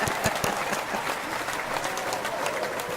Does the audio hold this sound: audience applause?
yes